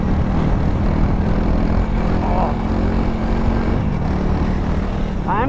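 Honda CRF300L motorcycle engine held under throttle in fourth gear while riding, a steady, loud droning hum that runs unbroken and close throughout with no talk.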